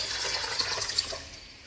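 Water runs steadily into a small mini washing machine tub, a soft continuous splashing and hiss that fades slightly toward the end, with no voices.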